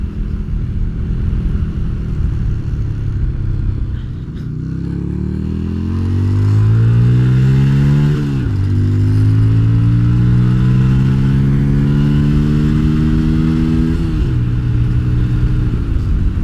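A budget bobber motorcycle engine with a modified carburettor slide revs up hard and climbs in pitch several times, loud and close, with rising harmonic sweeps and brief dips between throttle bursts.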